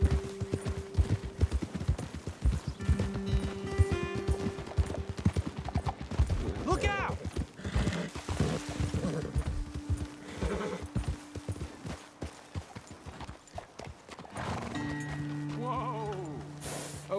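Hooves clip-clop in a steady rhythm alongside horse whinnies, music, and a sharp shout, layered in a busy soundscape from the video game Red Dead Redemption 2.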